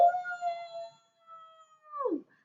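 A single wolf howl imitated by a human voice rings out fairly quietly and alone, holding a steady pitch before dropping off sharply at the close.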